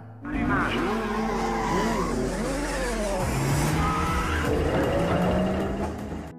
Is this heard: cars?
yes